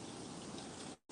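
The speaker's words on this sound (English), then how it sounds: "It's raining like a bitch right now too." Heavy rain pours down in a steady, dense hiss that stays even throughout, then drops briefly to near silence at the very end.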